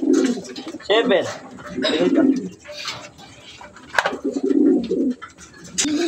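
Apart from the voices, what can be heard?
racing pigeons cooing at the loft landing board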